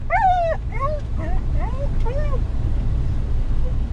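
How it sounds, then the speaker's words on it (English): A moose-hunting dog barking at bay on a moose cow in a Swedish forest, giving a quick run of high, yelping barks and whines that trail off, fairly close over a low steady rumble of wind or engine. "moose hunting dog, has a barking stand on a moose cow right now."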